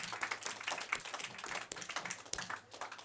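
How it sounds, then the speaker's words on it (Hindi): Clapping from a studio audience on a quiz show, greeting contestant Purva Singh from RSV School as she is called to the hot seat. Dense, steady applause runs the full length at moderate volume, with no talk over it. "एक बार जोरदार तालियां पूर्वा सिंह के लिए"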